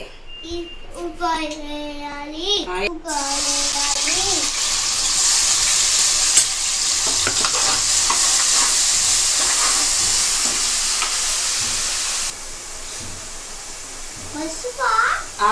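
Chopped onions hit hot oil and sizzle loudly in a pan while being stirred, for a small-fish curry; the frying hiss runs steadily through the middle with stirring scrapes, and voices talk at the start and end.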